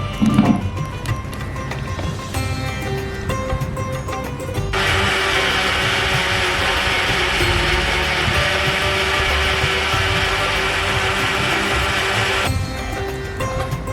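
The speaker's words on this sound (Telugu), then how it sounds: "ఇప్పుడు ఉన్న ఉన్న బ్యాటర్లో కోకో పౌడర్ వేసుకుని అది కూడా మిక్సీ పట్టుకుంటున్నాను" A mixer grinder whirs steadily for several seconds, blending wheat flour cake batter with cocoa powder, a loud continuous motor drone with short quieter stretches of clatter before and after.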